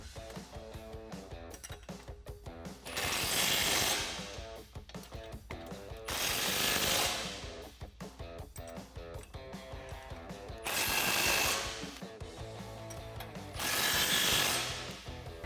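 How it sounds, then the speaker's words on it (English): Bolts on a two-piece Barricade Classic rear bumper with tire carrier for a 1987-2006 Jeep Wrangler are tightened with an 18mm wrench and 19mm socket, giving four loud bursts of rapid ratcheting clicks with quieter mechanical clatter between them. "we can go ahead and tighten down all 4 bolts with an 18mm wrench and 19mm"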